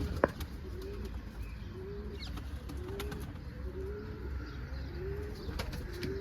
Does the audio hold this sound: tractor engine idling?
no